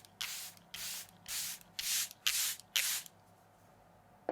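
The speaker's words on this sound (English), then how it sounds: "So this is a really good one, the Charlotte Tilbury Airbrush Flawless Setting Spray." Charlotte Tilbury Airbrush Flawless Setting Spray misted onto a made-up face in six close, even hissing bursts at a steady pace, then a pause and the start of a seventh spritz.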